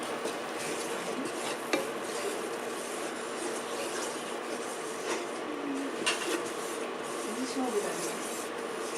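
Flour being stirred into a vegetable lasagne sauce, a steady rasping scrape of spoon against pot running throughout, with occasional knocks and faint voices in the background.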